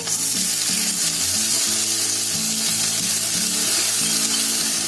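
Steady, loud sizzling fills the whole stretch as water hits a hot pan while making potato rice, with a low hum and faint stirring underneath.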